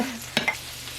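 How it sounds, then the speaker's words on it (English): Turkey filling stirred in a cast iron skillet, a faint sizzle with one or two quick scraping strokes of the spoon against the pan, close and brief. "we just stir these together until they are ready"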